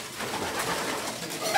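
Pigeons in a racing-pigeon loft: soft, continuous low cooing and murmuring from several birds, close and fairly quiet, with no talk.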